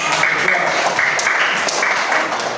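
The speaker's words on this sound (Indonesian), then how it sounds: "Tepuk tangan dulu untuk semuanya." A burst of clapping from a fifth-grade class, steady and fairly loud throughout, with some voices mixed in.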